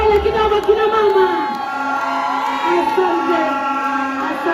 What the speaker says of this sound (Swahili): Makofi mazuri jamani. Shangwe na vigelegele kidogo kina mama.